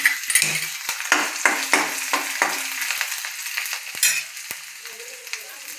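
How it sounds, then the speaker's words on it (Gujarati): Ginger garlic paste hits hot oil for a tempering, crackling in a series of loud spitting bursts and spoon clatters that gradually settle into a softer sizzle. "હવે આપણે તેલ મૂકીને તેનો વઘાર કરશું"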